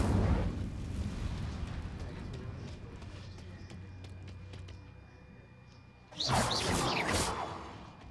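A fire spell cast in the Hogwarts Legacy video game, heard as a low rumbling roar that fades over several seconds before a sudden loud whooshing burst near the end.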